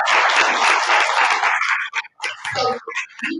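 An audience at a grief symposium applauding, a dense burst of clapping for about two seconds that breaks off into a few scattered claps and brief sounds.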